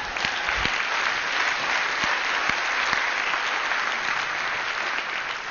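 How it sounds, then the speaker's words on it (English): Audience applause fills a TED-style talk hall as a volunteer named Joe is called up on stage, a steady dense clapping from many hands that holds throughout without speech. "Give Joe a round of applause"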